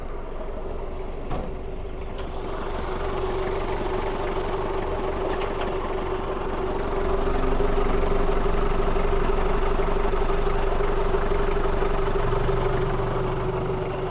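A 1997 Daihatsu Taft Rocky engine idling under an open hood, a steady low rumbling drone that stays even throughout and grows slightly louder midway, with no talk over it.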